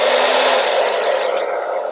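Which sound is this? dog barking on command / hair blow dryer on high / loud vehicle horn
hair blow dryer on high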